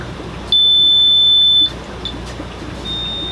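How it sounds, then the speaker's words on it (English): A single high-pitched electronic water leak alarm tone buzzes steadily for about a second, loud and close, then cuts off, leaving a low background hum. "The deeper the water, the louder the alarm."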